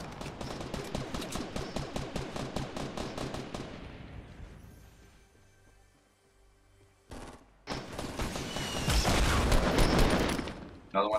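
Rapid pistol gunfire from a shooter video game crackles in a fast regular burst, tails off into quiet, then gives way to louder mixed game noise and further shots near the end.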